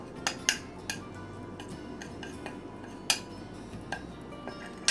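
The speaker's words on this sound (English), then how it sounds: "black pepper, regular mustard, little salt and garlic. So I just all mix together." Black pepper, mustard, salt and garlic are mixed in a bowl, with light clinks and taps of a utensil against the bowl at irregular intervals over quiet background.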